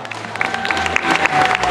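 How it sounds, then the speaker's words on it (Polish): Audience at a regional cooking contest results ceremony gives a brief, loud round of applause, dense clapping filling the short moment with a faint tone underneath. "Gorące brawa!"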